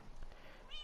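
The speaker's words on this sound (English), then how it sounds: "That's my cat Luca," A pet cat gives one short, faint meow near the end, over a quiet background hiss.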